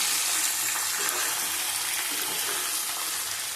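Papaya and potato curry fries in a pan with a loud, continuous close-up sizzle, a dense even hiss that holds steady throughout with faint stirring underneath, no talking.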